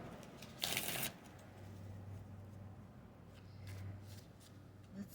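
A deck of spirit animal cards shuffled close by in one short riffling burst, followed by quieter faint handling and soft rustles.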